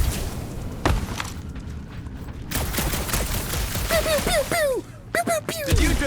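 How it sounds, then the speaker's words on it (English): Gunfire in Marvel's Guardians of the Galaxy game: sharp, loud shots scattered through the scene, mixed with whooshing and warbling sci-fi effects and spoken dialogue over a rumbling background. "Just making sure my guns work."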